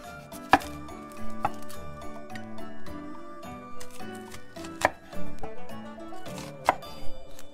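A knife works through red chilies on a cutting board, with sharp, uneven thwacks and knocks spaced a second or two apart. Softer handling clicks and scrapes fall between them, over faint tonal background music.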